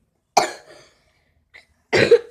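Two close, loud coughs from a person making slime at home, separated by a short pause with a faint breath between them.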